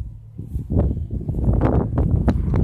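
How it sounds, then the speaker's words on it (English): Gusty wind buffeting the microphone outdoors beside a 2005 Ford F-250 6.0 diesel pickup, a low rumbling roar that swells and stays strong, with faint rustling on top. "it's really windy out today"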